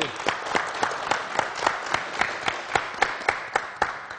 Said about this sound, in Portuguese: vamos aplaudir o doutor Rubens!